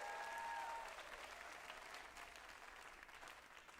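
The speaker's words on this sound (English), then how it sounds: "Can you give a big round of applause to Danny K." Applause rises from the audience at an awards gala, a dense, even clatter of many hands that peaks early and then continues at a slightly lower, sustained level.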